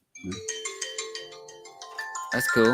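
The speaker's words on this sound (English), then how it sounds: "Oh, that was my phone." A mobile phone ringtone plays a bright, repeating electronic melody of steady tonal notes, with a voice briefly speaking over it at the end.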